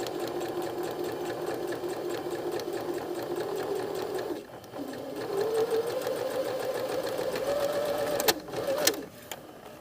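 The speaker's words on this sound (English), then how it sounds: "I'm looking at this row of stitching hitting that line on the machine." A sewing machine runs steadily while top stitching a patch pocket, a close, even mechanical whir that briefly pauses partway, then resumes and stops with a few clicks near the end.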